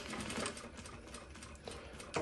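A JUKI DDL-900C industrial sewing machine running a short seam after a few reverse tack stitches, producing a brief, quiet, fast stitching whir with a small thump near the end.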